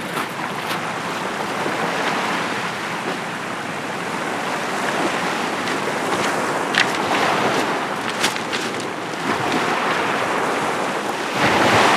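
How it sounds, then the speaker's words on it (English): Waves of the incoming tide wash steadily onto a winter beach at high tide, a loud, continuous close surf roar with wind buffeting the microphone and occasional sharper splashes. "Tide's coming in fast now, right on the top of the tide."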